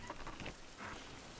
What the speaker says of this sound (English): It is raining once again.